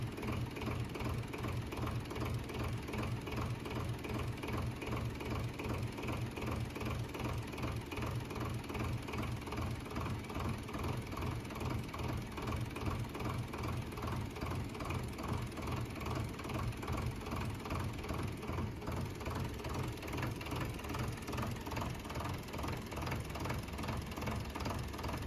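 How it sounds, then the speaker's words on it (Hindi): A modified tractor engine with a pump fitted idles steadily nearby, a continuous rhythmic diesel chugging with fast mechanical knocking that never lets up. "बहुत सोहणी साउंड बनी ट्रैक्टर दी"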